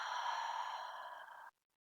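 A single open-mouth exhale during a yoga session, a soft breathy sigh lasting about a second and a half close to the microphone, then silence.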